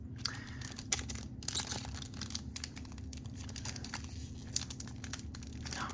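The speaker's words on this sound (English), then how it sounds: "Oh my gosh, some of these packs are impossible to open." Pokémon Obsidian Flames card packs are torn and crinkled open by hand, with repeated foil rips and crumpling rustles, faint and close.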